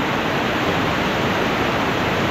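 Rushing water pouring over the mountain waterfall terraces of Kaparkan Falls in Abra, a steady, dense broadband roar filling the whole short stretch with no voices.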